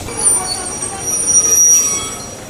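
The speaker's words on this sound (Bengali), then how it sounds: "আমাদের ট্রেন চলে এসেছে," A train pulls into a station with loud, close wheel squeal and high metallic screeching over a rumbling rail roar, rising and falling across a couple of seconds.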